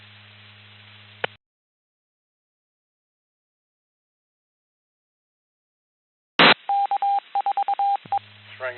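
A telephone rings over an amateur radio net: hissy static breaks off into silence, then a loud burst and a quick run of pulsed, steady ringing tones come through the channel.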